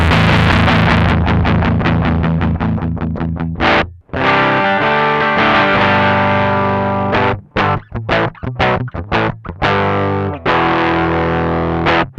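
Electric guitar runs through a BOSS FZ-1W fuzz pedal with the fuzz knob turned back, playing a sustained chord followed by choppy, stop-start riffs with a thick distorted tone, loud and close with no talking.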